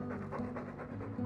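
A guard dog in Dragon Age 2 pants steadily up close, quick rhythmic breaths at moderate volume, with no other sounds around it.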